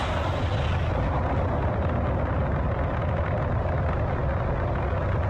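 Spaceship side-mounted weapon in a video game firing continuously, a dense, loud rumbling blast with steady low-end roar and no pauses throughout.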